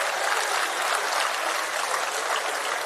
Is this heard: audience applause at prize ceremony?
yes